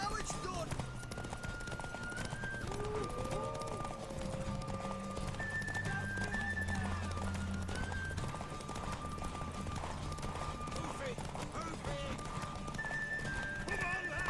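In The Witcher 3: Wild Hunt played on PS5, a horse's hooves clop steadily at a gallop and it whinnies, all beneath game music and spoken voices.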